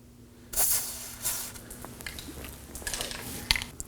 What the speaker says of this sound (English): Spray some on.